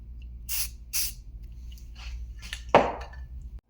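A spray paint can hisses in several short bursts, close up, followed by a sharper rattling spurt and then silence.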